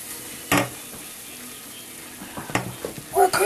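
Flour being stirred in a pot for chicken pot pie, a soft steady sizzle with a few sharp scrapes of the spoon against the pot, the strokes clustering toward the end.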